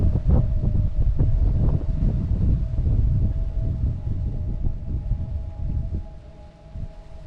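Heavy wind outdoors on Zzyzx Road, a loud low rumbling buffet against the microphone that fluctuates in gusts and eases a little toward the end, with a faint steady tone running underneath.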